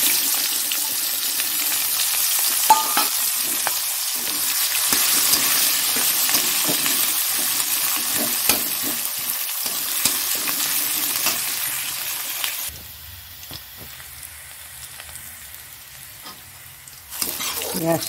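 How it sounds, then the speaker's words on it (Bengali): Chopped onion and green chili sizzle steadily in hot oil in a pan, with a spoon scraping and stirring throughout; the frying hiss drops abruptly partway through and continues more quietly, with a clink near the end. "পেঁয়াজটা একদম লাল লাল ভাজা হয়ে গেছে।"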